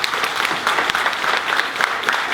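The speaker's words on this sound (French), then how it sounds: "ça ne nous empêche pas de faire une belle salve d'applaudissements pour François quand même." An audience at a Comic Con 2015 stage talk breaks into dense, steady applause, many hands clapping at once in a sustained crackling wash with a hint of crowd noise beneath.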